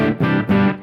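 Electric guitar played through a Super Crunch Box distortion pedal, two sustained distorted chords with thick harmonics over a dark, bassy clean layer, loud and close with no talking.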